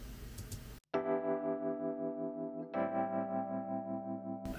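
Sustained Rhodes electric piano chords bathed in reverb, two chords held one after another, warm and shimmering, after a brief burst of noise.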